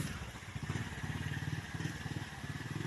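An XR motorcycle engine putters steadily at low volume beside floodwater in Barangay Buhangin, Butuan City, its rhythmic pulsing chug heard from a distance.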